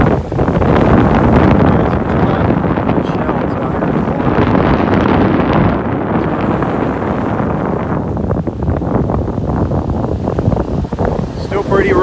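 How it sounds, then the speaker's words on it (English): Strong wind buffets the microphone on a beach in North Naples, Florida, a loud steady roar with surf underneath and no voices, holding for about twelve seconds. "Pretty rough, windy and rough."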